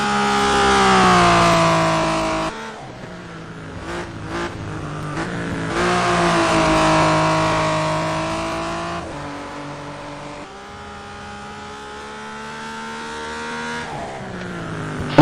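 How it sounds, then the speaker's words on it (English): Race car engines roar through a Le Mans racing video game, with sustained high revving, gear changes and rising pitch as cars accelerate down the straight, loud and steady with no talk. "We're with number 1, Mike Simian, and as he heads out onto the Unadier Straight for the last time in this season and also in this race"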